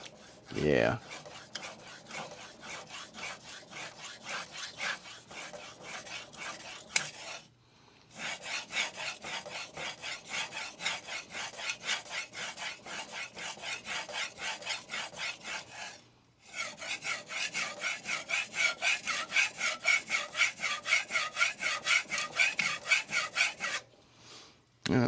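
A Damascus steel knife drawn repeatedly across a DMD resin-bonded diamond sharpening plate, giving steady, close, gritty rasping strokes in long runs, broken by two short pauses.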